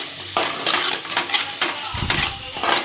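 Masala for fish curry fries in a pan, sizzling steadily while a utensil stirs and scrapes in repeated close strokes.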